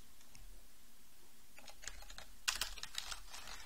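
Fingers tap out a short run of quiet keystrokes on a computer keyboard at a Linux shell, a few clicks then a denser burst, faint and close with no talk.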